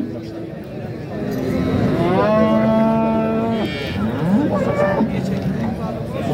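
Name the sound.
cow mooing at livestock market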